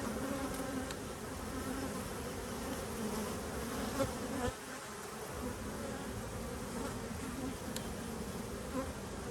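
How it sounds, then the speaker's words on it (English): A steady, dense buzzing of many bees flying in toward a hive, close and continuous, with the hum swelling slightly at moments. "Now the bees are coming in."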